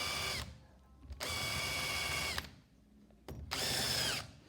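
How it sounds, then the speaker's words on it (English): A power drill turns a sharp countersink bit into timber holes for a foot stool, three bursts of whirring cutting of about a second each, separated by short quiet gaps, close up with no talking. "we're going to countersink these holes"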